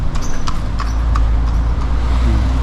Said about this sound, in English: look at that horse and cart